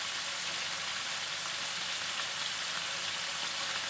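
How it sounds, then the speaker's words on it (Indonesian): Shrimp fry in hot oil until crisp, giving a steady, faint, hissing sizzle that runs unbroken throughout with no voices. "Kita goreng udangnya sampai garing-garing."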